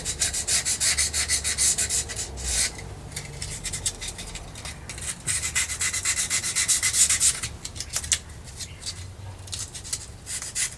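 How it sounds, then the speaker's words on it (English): Guitar fret edges are lightly rubbed with 400 grit sandpaper, producing continuous close scratchy strokes that pause and resume in an irregular back-and-forth rhythm, with no voice present. "So just starting off with 400 grit and just lightly going on the edges of the frets."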